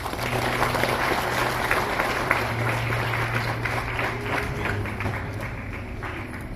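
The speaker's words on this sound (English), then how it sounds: "Round of applause, please." Applause from an audience at a government event marking the International Day of Persons with Disabilities in Meghalaya, a steady dense round of clapping that holds at an even level for several seconds with a low hum underneath.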